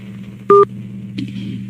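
A single loud telephone dial tone beeps briefly over a steady low line hum, followed by a fainter click and some soft line noise.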